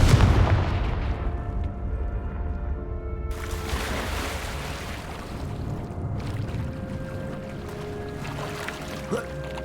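A Confringo spell in Hogwarts Legacy bursts with a loud, dull blast, followed by a long rumbling wash and crackling debris that slowly tails off, with a later smaller flare-up.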